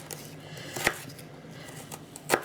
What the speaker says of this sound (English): I'm just chopping away as usual.